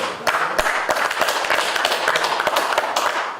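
Applause from an audience at a Korean party committee meeting on radon, a dense, steady patter of many hands clapping at even loudness throughout, with sharper individual claps standing out.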